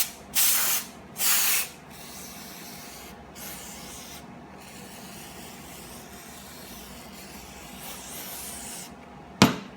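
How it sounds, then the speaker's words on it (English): Carb cleaner sprays onto the outside of a motorcycle carburetor in two short, close, loud hissing bursts, followed by quieter fainter hisses, low shop background and a sharp clack at the end. "Let's start off by just spraying the outside with a little bit of carb cleaner."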